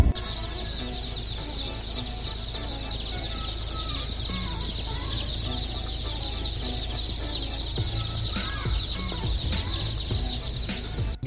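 A dense crowd of about a thousand day-old H&N breed chicks peeps continuously and loudly at close range, a shrill, unbroken chorus filling the whole scene.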